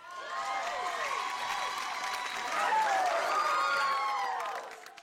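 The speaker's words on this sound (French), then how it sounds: "Applaudissez maintenant Vinny et Polly." A television reunion-show studio audience breaks into sustained applause with cheering and whoops, swelling slightly midway before fading out.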